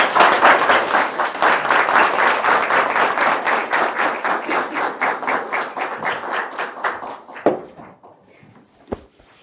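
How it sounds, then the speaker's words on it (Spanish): Seminar audience at a university dentistry faculty applauds, a loud dense crowd clapping that settles into a rhythmic pulse, then thins out and ends in a few last isolated claps. "Les pido un aplauso."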